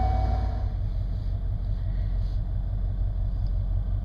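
A Ford 302 V8 engine idling hot at 600 RPM, a low, continuous, steady rumble heard close up with no talk.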